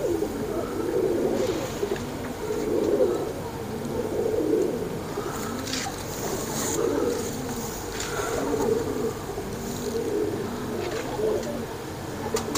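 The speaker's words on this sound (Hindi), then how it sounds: "ये कारकर्दगी वाले कबूतर हैं दोस्तों, बच्चे उड़ाने वाले" Pigeons coo in soft, repeated low rounded phrases throughout. They are fancy flying pigeons of the Royal Teddy breed, with faint insect buzzing behind them.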